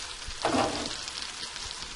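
Spinach and leeks sizzle gently in butter over low heat, a soft, steady frying hiss close by with a slightly louder crackle early on.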